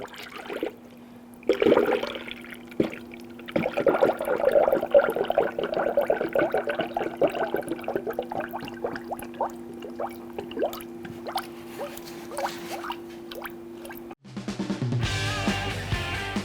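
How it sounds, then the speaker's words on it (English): Coolant is poured from a container through a clean funnel into the top of the radiator of a 2011–2015 Kia Sorento, giving a steady liquid trickle and gurgle with a few drips, ending in a louder splash or clatter. "Now, using a clean funnel, you want to go ahead and put that into the top of your radiator."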